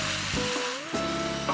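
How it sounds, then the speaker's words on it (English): Onions sprinkled with coarse salt sizzle steadily while browning in a pan, a close, continuous frying hiss with a few soft stirring scrapes. "While these onions are browning,"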